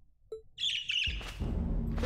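A bird call from the video game Trails of Cold Steel 2, a high piercing squawking cry over a low game soundscape that swells into a louder rumbling effect partway through.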